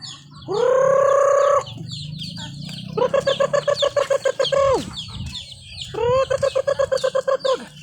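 Chickens being fed fruit cluck up close: one long drawn-out call, then rapid rhythmic bursts of clucks in two separate runs, loud and clear with no talking.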